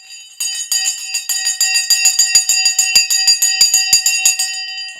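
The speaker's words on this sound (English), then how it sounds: "the bell has just gone." Bell ringing loud and close, a rapid, continuous string of bright metallic strikes like an electric school bell, sounding steadily for several seconds with no talk.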